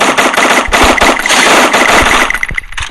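Rapid gunfire in the shooter video game Free Fire, played in ranked mode, with loud dense bursts of automatic shots rattling continuously over a rumbling engine-like background and ending in a few separate shots.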